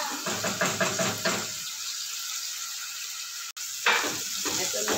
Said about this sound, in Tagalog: magpiprito akong isda